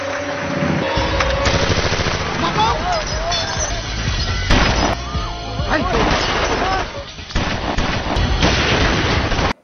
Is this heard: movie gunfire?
yes